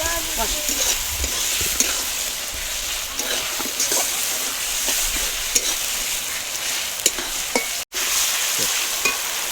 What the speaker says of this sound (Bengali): আদা রসুন দিয়ে ভালোভাবে মশলার সাথে এটা ভেজে নেব